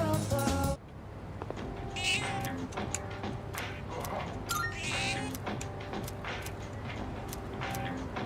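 A cat meows in the Persona 3 Reload video game, with several distinct, close mews spaced a few seconds apart over soft background game music and tones.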